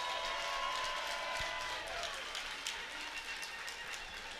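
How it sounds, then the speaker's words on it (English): Audience applause for two kickboxing fighters after a three-round bout, a steady broadband clatter of clapping that holds level throughout, fairly distant and even, with no talk over it. "how about a round of applause for these 2 great fighters?"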